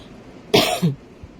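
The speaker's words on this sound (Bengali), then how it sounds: "খুব শুকনো কাশি উঠছে" A single dry cough, short and close, from a person indoors on a rainy day, with a faint throat sound trailing after and quiet surroundings.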